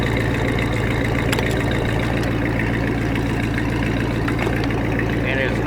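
A 1986 Supra boat with a 351 V8 PCM engine idles with a steady, loud, low rumble and no change in pace. Faint voices sit beneath it.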